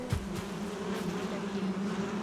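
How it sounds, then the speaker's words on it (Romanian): Bees buzzing in the video game Valheim: a steady, droning hum with a clear pitched tone, held at an even level, with no talking. "The bees are happy."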